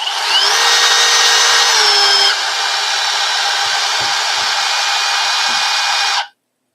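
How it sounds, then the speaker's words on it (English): An impact driver runs in its fourth, self-tapping screw mode, a loud, steady high-pitched whine that drops slightly in pitch partway through, holds for about six seconds with a few faint clicks, then cuts off abruptly. "normally on the regular impact driver, the 4th setting is the self-tapping screw mode."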